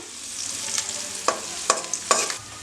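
Curry leaves crackling in hot oil for homemade ashwagandha hair oil, a close continuous hiss punctuated by several sharp spatter pops and stirring clinks.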